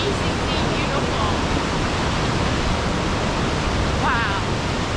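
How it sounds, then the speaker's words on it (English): Haslam Creek rushes beneath a suspension bridge in the Cowichan Valley near Nanaimo, British Columbia, giving a steady, dense, broadband roar of flowing water that holds constant throughout, with faint chirps in the background. "The creek is rushing below us"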